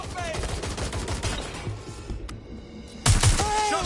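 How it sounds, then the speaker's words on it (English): Gunfire crackles in dense bursts through an action video game firefight, briefly thinning out before another loud volley erupts near the end. "Shots fired!"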